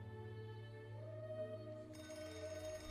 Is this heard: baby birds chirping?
no